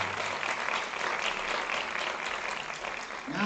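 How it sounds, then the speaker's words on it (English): Audience applause at an educational theatre event, a steady, dense clapping that fills the room loudly and evenly throughout without pause. "A big applause, please"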